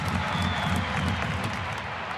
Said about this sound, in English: You can hear the crowd, they're starting to cheer.